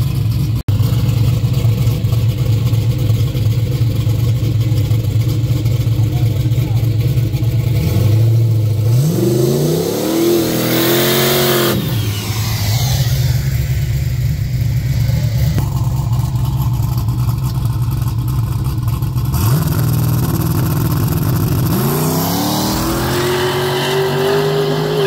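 Race car engine revving during test launches at a drag strip, loud and close, with several rising engine sweeps that climb in pitch and then drop, over a constant heavy idle rumble.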